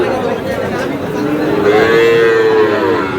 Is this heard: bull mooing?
yes